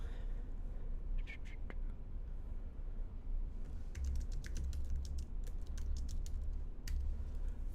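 Clicky keystrokes on a computer keyboard come in short bursts, a few taps early and then a faster run of typing later, fairly close over a steady low background hum with no talking.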